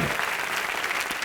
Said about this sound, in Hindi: सुल्तान के लिए एक बार जोरदार तालियां